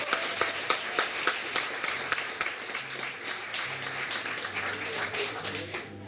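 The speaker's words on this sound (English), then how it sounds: "can I just give Brian Callahan a round of applause?" An audience applauds a speaker at a public event, a dense, moderately close crowd of clapping that carries steadily through and fades slightly at the end.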